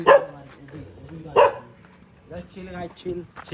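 A dog barks along a road during a walk with friends in Alibag, with two sharp bursts near the start and around 1.5 seconds, followed by people talking.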